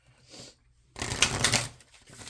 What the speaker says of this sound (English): Do a quick little shuffle.